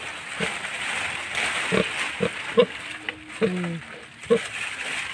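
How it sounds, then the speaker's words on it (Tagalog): A mother pig (sow) on a farm gives a series of short, deep grunts at irregular intervals, close and fairly loud, over a steady background noise with some talk. "Yung inahing baboy namin ay masipag siya,"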